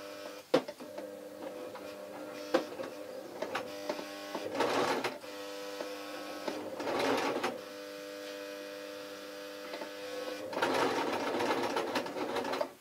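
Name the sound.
sewing machine sewing a T-shirt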